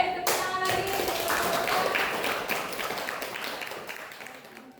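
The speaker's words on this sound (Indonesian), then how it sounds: "Baik, tepuk tangan lagi." Students in a classroom clap their hands together in a dense burst of applause that starts sharply, holds for a few seconds and then gradually thins out and fades, with no voices over it.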